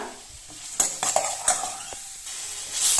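Onions being sautéed on high heat in a pan, a soft sizzle broken by several sharp scrapes and knocks of a spoon stirring against the metal, close and brief.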